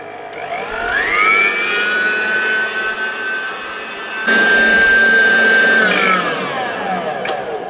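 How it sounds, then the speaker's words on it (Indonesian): An electric mixer whips cake batter with sugar at high speed for a pineapple upside-down cake. The motor whine climbs quickly to a loud, steady high pitch, holds, briefly grows louder, then winds back down near the end. "kita mix dengan kecepatan tinggi ya"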